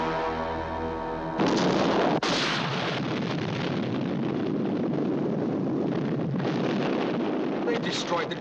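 A science-fiction missile strike blowing up a gunship: a sudden, loud, rumbling explosion bursts out and rolls on as a sustained, roaring blast with crackling debris.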